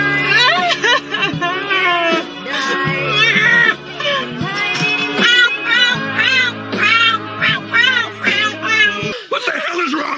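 A young woman imitates a cat with her voice, giving a long run of drawn-out, wavering meows that rise and fall close up, with brief pauses between them.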